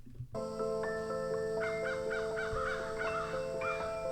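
Several crows cawing repeatedly in a layered sound-effects track, harsh calls overlapping at mid distance over a steady sustained music bed.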